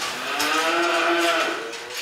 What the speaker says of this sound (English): Cows are healthy and well-fed.